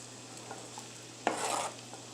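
Peppers and onions hit a preheated skillet with a sudden loud sizzle that holds for about half a second, then falls back to a faint hiss, with a few light clinks before it.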